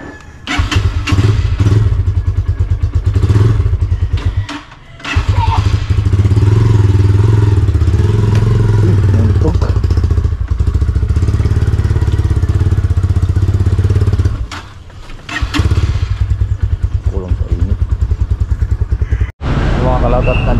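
A motorcycle engine rumbles steadily during a ride, loud and close, fading briefly at a few points before picking back up.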